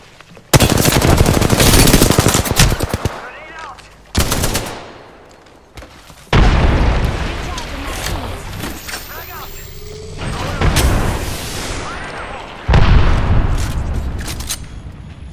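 Frag grenade blast and gunfire in the video game Apex Legends: long bursts of loud, rapid automatic fire broken by short pauses, with heavy booms and impacts. Game voice lines come through between the volleys.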